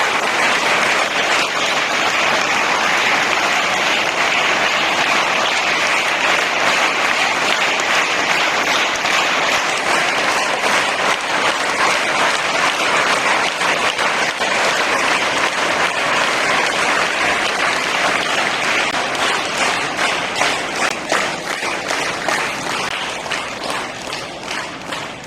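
Loud, continuous applause from a school audience welcoming a retiring senior primary teacher at a farewell ceremony in India, a dense wash of many hands clapping for about twenty-five seconds before gradually thinning out at the end.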